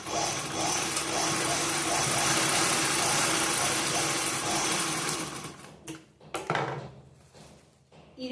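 A sewing machine runs steadily, stitching the side seam of an unlined blouse with a continuous mechanical whir, then slows and stops in short bursts near the end.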